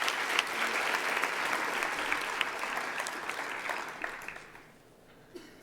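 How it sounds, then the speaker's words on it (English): Audience at a University of Johannesburg graduation ceremony applauding the academics, a dense, steady wash of many hands clapping that holds for several seconds before thinning out and fading near the end. "I think you should give them a round of applause"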